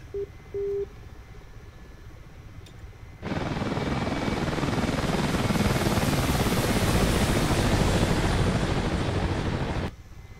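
A Mi-8 Hip helicopter in flight from Batumi to Sochi gives a loud, steady rotor and turbine roar that starts abruptly and cuts off after several seconds, preceded by a couple of short electronic beeps.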